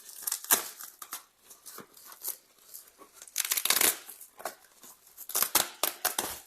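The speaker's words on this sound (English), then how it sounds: "I'm trying not to crush the plant while removing the tape." Tape is peeled and pulled from plant packaging inside a reflective bag, giving quiet, close crinkling, rustling and ripping bursts in an irregular rhythm, with no talk.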